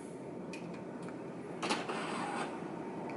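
An Epson inkjet printer whirs and clicks as its mechanism starts up, with a few brief mechanical bursts over a steady low hum.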